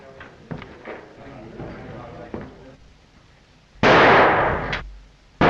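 A single loud gunshot bursts out near the end, sharp and close, after a stretch of low muffled talk and a few small thuds, in a 1935 Western film scene.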